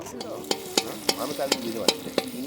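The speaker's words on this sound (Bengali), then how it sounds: "আলু ভাজা হয়ে গেছে" Potatoes frying in a pan, a soft continuous sizzle punctuated by regular sharp clicks of a spatula stirring against the pan, close and steady.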